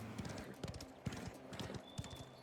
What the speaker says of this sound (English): Press R1 to spur your horse.